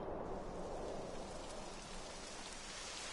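Rain falls in the video game Dragon Quest XI with a soft, steady hiss of drops on the ground. It stays faint and even throughout, with no voices.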